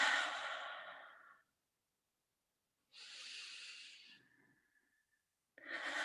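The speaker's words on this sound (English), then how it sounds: "So if you want to join me on the breathing, that's always a great grounding." Slow, deep breaths drawn in and let out during a group breathing exercise: a long exhale, a pause, another full breath, then a third beginning, each close and clearly audible with quiet gaps between.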